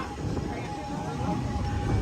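The Walt Disney Railroad train rolls along its tracks at the theme park, a steady low rumble and rattle of the carriages heard from on board, continuous and moderately loud with a voice murmuring underneath.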